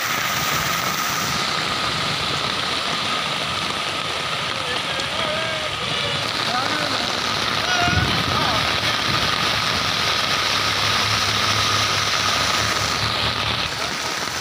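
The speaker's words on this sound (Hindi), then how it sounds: "तो चिंडौल में बारिश आई है" Heavy rain falls over a village in Chandawal, a steady dense hiss that fills the scene throughout, with a faint low engine-like hum underneath and occasional voices speaking in the background.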